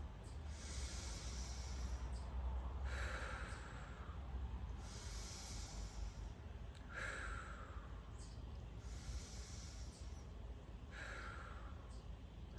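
Slow, deep breaths during an outdoor workout stretch, five or six long airy inhales and exhales in a steady rhythm, close and soft over faint background hiss.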